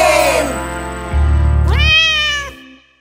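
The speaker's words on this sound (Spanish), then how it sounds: "El gato hace miau." A cartoon cat in La Granja de Zenón, a children's video game, gives one loud, clear meow with a rising then falling pitch, set against bright game music and a low hum.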